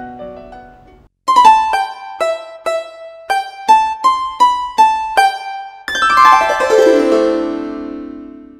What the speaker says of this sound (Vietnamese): Rồi đây là tiếng đàn tranh, mình sẽ cho các bạn nghe thử tiếng đàn tranh gốc của đàn.